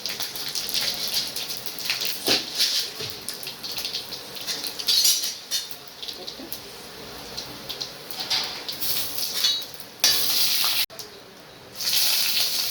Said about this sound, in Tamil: கடுகு போட்டு கொஞ்சம் சீரகம் போட்டுக்கலாம்.